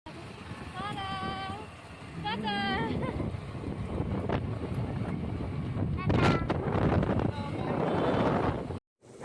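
Wind roars against the microphone while riding fast on a motorbike under a cloudy sky, a loud, buffeting rush with indistinct voices calling out over it.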